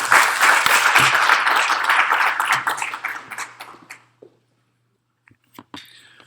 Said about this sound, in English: So let's give a big round of applause for Tim.